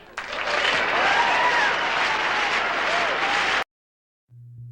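Loud applause and cheering from a crowd at a birthday celebration, steady and dense for about three and a half seconds before cutting off abruptly to silence.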